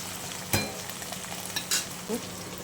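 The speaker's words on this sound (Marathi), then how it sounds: "हे अगदी दोन ते तीन मिनटं आपण याला छान असं परतून घेऊया" Chicken marinated with ginger-garlic paste sautéing in a pan for chicken biryani, a steady low sizzle with a few sharp scrapes of stirring, close and alone.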